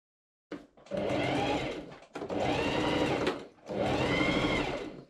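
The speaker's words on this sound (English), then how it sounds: "I machine sew the waistband." A sewing machine stitches the waistband onto a pair of Regency-style men's pantaloon trousers in three sustained whirring runs, each lasting about a second and a half, with brief pauses between them. The machine is close and steady, and no one talks.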